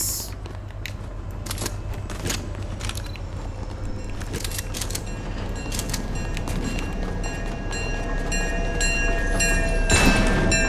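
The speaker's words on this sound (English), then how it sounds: "Is that a train?" A train rolling past in the video game Fortnite, a loud rumbling clatter with repeated sharp metallic clicks that builds slightly toward the end, with no talking over it.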